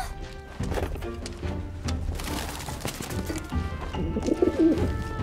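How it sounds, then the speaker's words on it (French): A pigeon coos softly in Final Fantasy VII Remake Intergrade, low and repeated near the end, under a busy layer of game ambience and music. "Un pigeon?"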